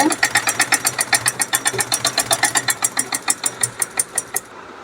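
A sewing machine stitches a seam on a garment for a two-year-old child, the needle hammering in a fast, even rhythm of sharp repeated strokes, close and loud, then stopping just before the end.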